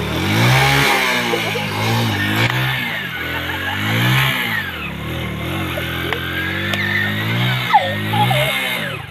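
A motorcycle engine mounted under a homemade aeroplane revs up and down in loud, close surges, its pitch rising and falling repeatedly with brief sharp clatters.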